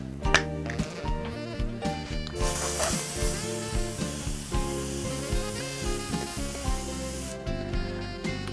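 Preval sprayer spraying a fine mist onto a mold, a steady hiss that starts after a few seconds of clicks and clatter, holds for about five seconds and then cuts off, with musical tones underneath.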